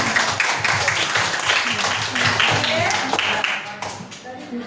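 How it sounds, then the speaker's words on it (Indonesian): A school class claps steadily for a few seconds for a student group, a warm round of applause in a classroom, with voices mixed in underneath. "tepuk tangan untuk kelompok yang kira"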